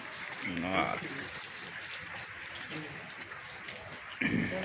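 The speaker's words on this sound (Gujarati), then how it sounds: "હજી ચાલુ જ છે વરસાદ તો" Rain falls in a steady, soft hiss throughout, with a person talking nearby at the beginning and again at the end.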